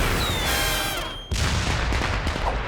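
A cartoon explosion sound effect erupts as a loud, dense burst with crackling rumble. It cuts briefly, then booms again and rumbles on to the end.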